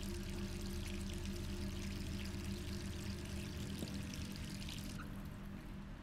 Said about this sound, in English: There's the sink. Oh no, dripping stuff.